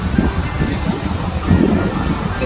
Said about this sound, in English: I'm guessing it's going to be pretty windy here